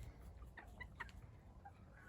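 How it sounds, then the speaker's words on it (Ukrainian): Faint chickens clucking softly in short, scattered calls over a low, steady background rumble. "Кури є кури."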